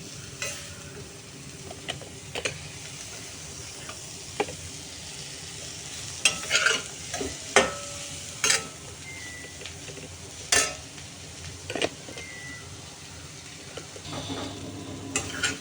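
Bitter gourd sabzi steams and fries in a pan over low gas, a soft continuous sizzle with several sharp spoon clinks and stirring scrapes against the pan.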